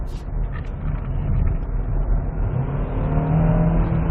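A Hyundai Tucson Hybrid SUV engine drones steadily and builds slightly as it accelerates uphill, with road and tire noise underneath and no voices.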